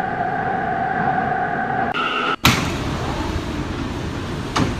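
An R179 M subway train runs in a Roblox game, with a steady rolling rumble and humming tones. A short gap is followed by a sharp clunk, then the noise carries on, with another brief knock near the end.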